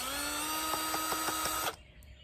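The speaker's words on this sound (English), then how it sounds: "Okay, you got the old drill out." A power drill backing screws out of an old fan motor, a steady high whine with a faint rhythmic ticking from the screw turning, then cutting off abruptly near the end.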